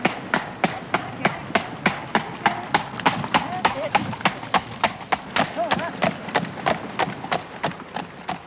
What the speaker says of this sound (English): four horses pulling it.